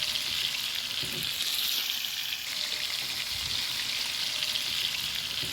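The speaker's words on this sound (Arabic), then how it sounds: "وننزل باللحمة في الطاسة بعد ما سخنت معانا تمام، علشان اللحمة تاخد معانا صدمة وتقفل المسام" Meat searing in a hot pan with fresh rosemary sizzles steadily and loudly, a dense crackling hiss throughout with no talking.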